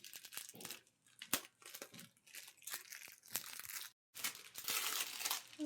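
Plastic wrapping on a package of new clothes crinkles and tears in rapid bursts close by, with short rustling pauses and a brief silence before a louder stretch of crumpling, while a voice speaks faintly at times.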